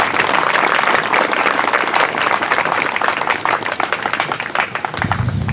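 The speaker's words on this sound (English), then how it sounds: "Let's give them a round of applause." Audience applause at a public art dedication on Madeline Island, a dense, steady wash of many hands clapping at close range that holds strong throughout and thins slightly at the very end.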